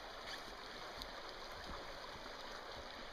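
Faint, steady rush and gurgle of a forest creek flowing, a soft continuous wash of water with no talking.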